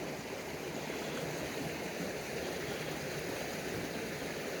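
A river rushes beneath a large pile of flood-deposited logs, branches and roots, giving a steady, close, broadband watery roar with no talk.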